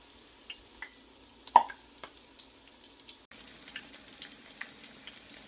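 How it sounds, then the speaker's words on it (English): Chicken schnitzel fries in hot oil in a pan, a quiet continuous sizzle dotted with small pops and crackles, one sharper spit standing out, heard alone with no voices. "There's the chicken frying in the pan."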